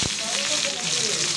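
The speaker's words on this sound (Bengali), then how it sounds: "এখন আমি লাল শাকটা ভাজি করে নিব।" Red amaranth leaves frying in a pan give a steady, close sizzle that holds level throughout with no pauses.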